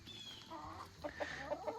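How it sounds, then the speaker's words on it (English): Chickens on a small goat and poultry farm cluck close by, a run of short, clipped calls that grows busier toward the end with no talk over it. "I think we're close to 40 chickens now"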